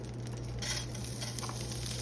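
Turkey chops crackle and sizzle steadily in a pan under a low, constant hum, with occasional soft stirring sounds.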